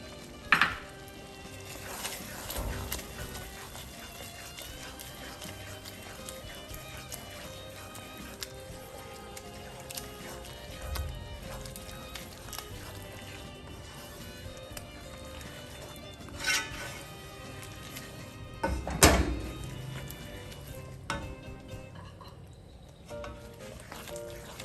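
A spoon stirring shrimp and chorizo risotto with butter and olive oil in a pan: faint scraping and soft clinks of utensil on cookware with occasional louder knocks, quiet and intermittent.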